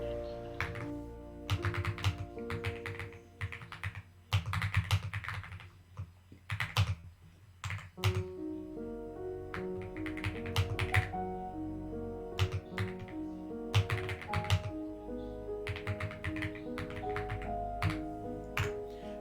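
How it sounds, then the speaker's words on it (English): Mechanical keyboard typing up close, bursts of sharp key clicks in irregular rhythm over a steady tonal game-music bed, with pauses between flurries. "if you hear me typing or clicking, that's my I got a mechanical keyboard."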